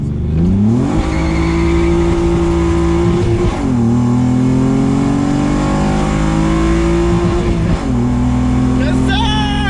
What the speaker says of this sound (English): the exhaust sound good